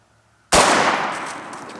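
A single loud AK rifle shot into a target of meat and bone, a sharp crack after half a second of near silence, followed by a long ringing decay.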